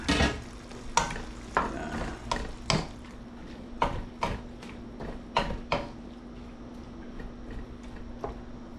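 Tomatoes cook in a pan for sautéed pechay, a soft frying sizzle punctuated by repeated sharp spatula taps and scrapes against the metal, close and quiet, with the clicks thinning out toward the end.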